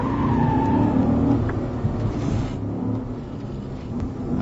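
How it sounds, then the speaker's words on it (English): A Holden VE ute without ABS accelerating around figure eights with wheel spin, its engine roaring loudly and steadily with a rising whine early on, plus faint tire noise. "It's going to get a bit of wheel spin around these figure eights."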